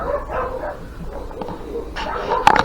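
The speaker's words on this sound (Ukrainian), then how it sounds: "собаки розриваються, бо в нас коти" Several dogs bark in excited bursts outdoors on a rural homestead with rabbit hutches, the barking irregular and moderately distant, mixed with background noise and some human voice.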